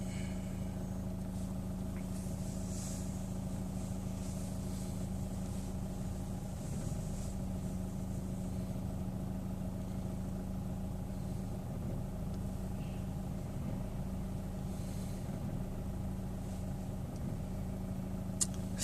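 A Chevrolet Orlando's engine runs at idle with the car stationary, a faint, steady low hum that holds evenly throughout with only slight fluctuations.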